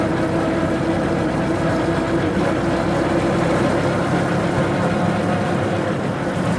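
A 1915 Hispano Suiza car powered by an 18.5 liter V8 World War I airplane engine drives along with a loud, steady, deep rumble that holds even and unbroken throughout.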